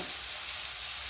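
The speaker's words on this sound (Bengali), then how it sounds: "আমি আবারও কিছুক্ষণ এগুলো কষিয়ে নেবো।" Spices with chili powder sizzle steadily in hot oil while being sautéed for a spring onion greens dish, a loud, dense crackle that continues without a break.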